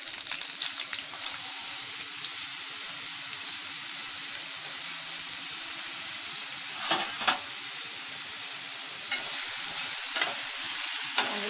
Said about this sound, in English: Now I will add these potatoes to the oil.